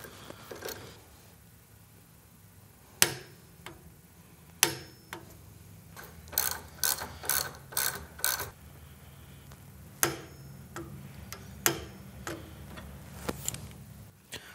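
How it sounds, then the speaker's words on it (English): A hand ratchet tightens Allen bolts on an Indian Challenger motorcycle fuel tank, giving quiet, sharp clicking ticks in scattered bursts, including a quick rapid run of clicks, close up with faint workshop background. "So we're going to finish tightening these up, and then we're going to torque them to 18 foot-pounds."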